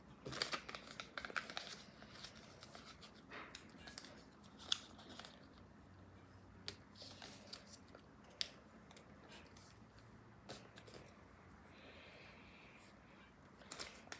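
Paper is folded into an origami person, with soft crinkling and faint crisp creasing sounds scattered throughout, quiet and close, with no voice.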